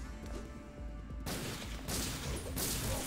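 Handgun shots fired at the electric Tyrant boss Morpheus in the video game Resident Evil Dead Aim: a few loud, harsh bursts follow one another over steady game background noise.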